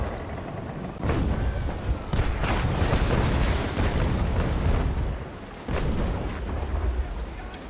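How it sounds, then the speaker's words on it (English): Ship cannons in the naval game Naval Action Legends fire from a brig as a few single shots. Each lands as a deep, loud boom with a long rumbling tail over a continuous roar of wind and sea. "Just firing single shots at the moment."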